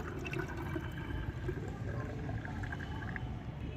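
Liquid homemade plant fertilizer strained into a container of plain water, a steady close pouring and trickling wash that runs continuously with no talk.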